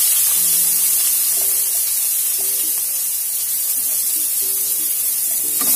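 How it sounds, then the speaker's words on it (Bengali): Thin-cut, pre-boiled cauliflower stalks frying in mustard oil with panch phoron give a loud, continuous sizzling hiss, with a few faint clinks beneath it. "প্রথমে দিয়ে দিচ্ছি তেলের মধ্যে সরু করে কেটে নেওয়া ফুলকপির ডাঁটা।"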